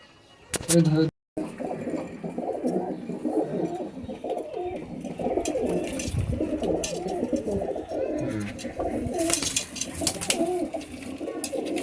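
Punjabi pigeons in a loft coo in repeated low rolling phrases that run through most of the stretch, with someone talking over them.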